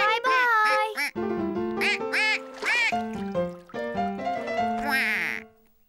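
A series of loud, nasal cartoon duck quacks in quick, uneven bursts, close up, repeating over several seconds before trailing off.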